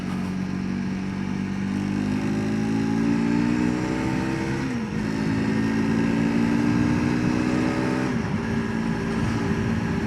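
A 2022 FB Mondial SMX125 motard motorcycle rides along with a steady buzzing engine that climbs in pitch, then drops briefly at two smooth gear changes before rising again, heard from the rider's position.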